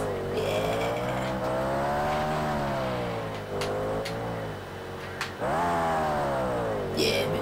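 Motorcycle engines in the Xbox racing game MotoGP 2 whine at high revs as bikes pull wheelies, a strong continuous tone sweeping up and down in pitch with brief dips, loud and alone apart from faint clicks.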